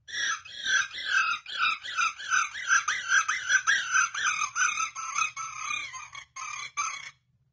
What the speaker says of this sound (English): bird distress,